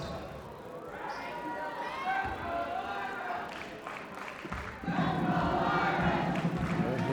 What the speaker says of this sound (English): Here goes the crowd. They can be noisy,